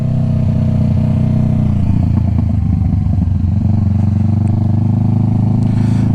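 A motorcycle engine rumbles steadily and loudly while the bike is ridden, with a low continuous drone, some clattering in the middle and no pauses.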